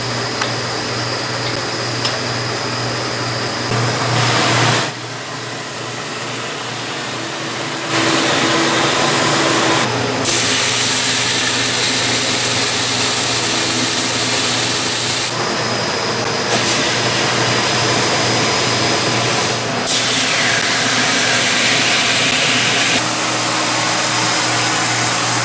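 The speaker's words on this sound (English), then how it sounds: "Then the skis pass over the belt for a light polish to flatten the surface." A ski grinding machine roars steadily as skis are run over its belt for a light polish of the bases, the loud mechanical whine rising and dropping in sections with no talk.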